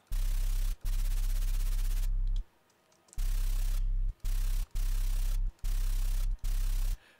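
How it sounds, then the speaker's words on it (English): Choppy bursts of white noise pitched in a software sampler over a low buzzing hum, cut into irregular segments by sharp gaps and a brief quieter stretch. "You can pitch the white noise"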